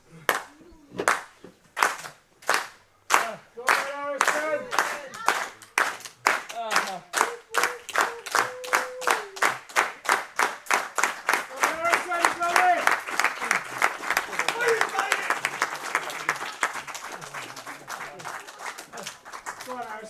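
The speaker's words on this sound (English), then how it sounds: "Show of respect for Harrison Bennett from his hometown crowd tonight" A hometown wrestling crowd at a live match claps steadily in distinct handclaps that grow denser and build into a fuller round of applause, with a voice talking over it.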